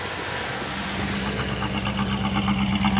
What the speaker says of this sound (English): the engine's running, and she sounds pretty good